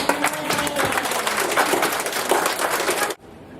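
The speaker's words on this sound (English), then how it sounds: "Let's give George a round of applause" A television game-show studio audience applauds a contestant with dense, sustained clapping that fills the room for about three seconds and then cuts off abruptly.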